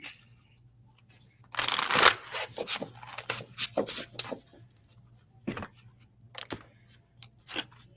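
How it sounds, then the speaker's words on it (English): Tarot cards are shuffled in several quick riffling bursts, crisp papery flutters close by with short pauses between them. "One more shuffle."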